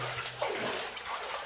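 Water splashes and trickles steadily somewhere below, a soft, continuous wash that stays fairly faint and distant with no voices.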